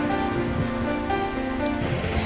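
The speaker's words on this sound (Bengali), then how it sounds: "বৃষ্টির শব্দটাই আসলে মনের মধ্যে একটা অন্যরকম অনুভূতি জাগায়" Heavy monsoon rain in rural Sherpur, Bangladesh, a dense, constant wash of falling water filling the whole stretch without talk.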